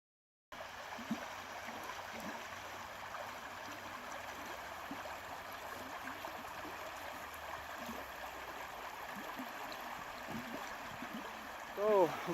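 A stream flows beside a hiking trail, a steady soft rushing of water throughout, faint and even, with a brief voice at the very end.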